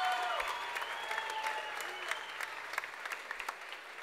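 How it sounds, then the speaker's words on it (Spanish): An audience at a benefit concert applauds the business sponsors, a dense steady clapping that holds throughout, with a few sharper individual claps standing out near the end. "Así que un aplauso bien grande para los empresarios."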